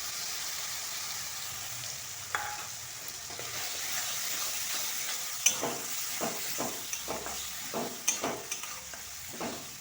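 Spice paste sizzling in a pan with melted tomato and broccoli, steady frying hiss under repeated scraping stirs that grow busier and clatter against the pan, close up and with no voices.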